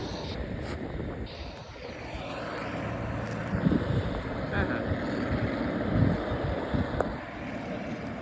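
A tractor passes along a straight road in Rajasthan, a broad engine rumble that swells slightly as it nears, mixed with wind buffeting the microphone outdoors.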